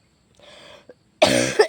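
A person coughs: a soft rasping breath and a small catch, then a louder, harsh burst of coughing at close range.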